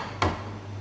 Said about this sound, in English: So I'm going to break the eggs